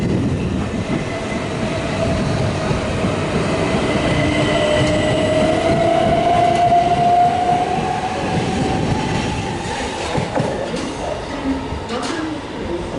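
A Class 377 electric multiple unit pulls out of Southampton Central station on the South Western Main Line, its rising motor whine and steady rumble building loudly nearby, with wheel noise and a faint voice underneath.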